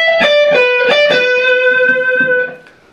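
Distorted electric guitar plays a lick from a song: a few quick picked notes, then a long sustained bent note that rings out and fades, played alone without talking.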